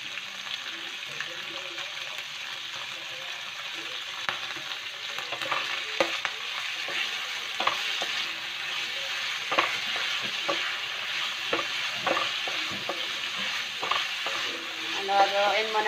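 Meat being stirred and fried in a pan for a home breakfast dish of vegetables with a little meat: a steady sizzle throughout, broken by repeated scraping stirs and clatter, close and fairly loud, with no talking.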